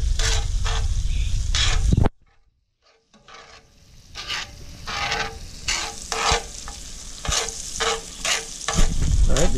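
Butter sizzles and crackles steadily with garlic and rosemary in a hot skillet, broken by a brief quiet gap before the frying resumes with stirring scrapes.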